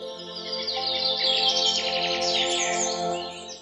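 Bright bird chirps and tweets trill rapidly and continuously for a few seconds over a sustained musical drone, a storybook effect for a little white pigeon waking at dawn.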